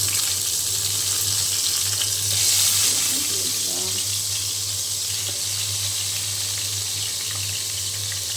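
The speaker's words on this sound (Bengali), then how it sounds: "আমি এখানে বেগুন ভাজি করার জন্য তেল দিয়ে দিয়েছি।" Eggplant slices frying in hot oil, a steady broad hiss of sizzling with a constant low hum underneath and a few faint clinks, continuous and fairly loud throughout.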